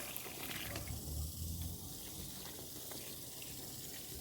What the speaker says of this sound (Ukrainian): наливаємо водички, повну лунку